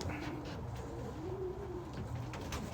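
A pigeon coos softly in low, rolling calls, close by, repeating through the clip with no talking.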